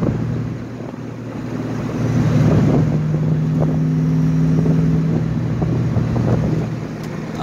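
A 1985 Ford Mustang GT convertible, a Fox-body, accelerates hard after a kickdown on a Florida road, its engine drone rising and holding steady close by, with wind rushing over the open top and no talking.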